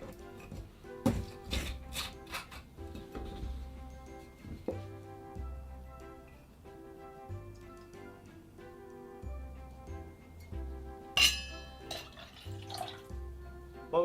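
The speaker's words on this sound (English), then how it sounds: "Last ingredient to the tin, guys, is 30ml or 1 ounce of Campari." Campari pours into a metal cocktail shaker tin, giving thin liquid trickles and drips with sharp clinks of metal and glass scattered through, close and fairly quiet with no one speaking.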